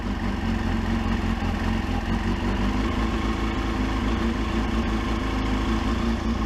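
A car engine idles steadily with a low, continuous rumble and faint clatter, loud and close throughout with no talking.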